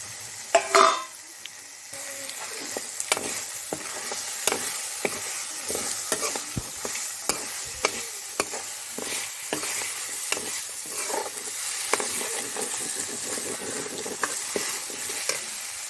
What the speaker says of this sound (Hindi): उसके बाद मसाला फ्राई होने के बाद इसमें ये बरी और आलू डाल दूँगी।